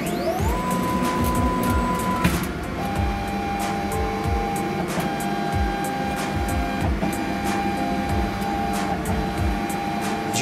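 Machine lowering a block for an autofocus sensor, a repeated motorized whir with steady tones and periodic clicks, fairly loud and alone without talk.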